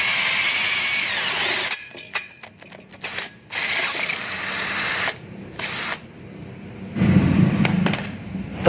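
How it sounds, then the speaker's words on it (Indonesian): A cordless drill whines in repeated bursts, starting and stopping with short pauses, loud and close, with grinding and slipping as the bit bites into steel. "Ini tadi sempat selip ini pakai bor baterai"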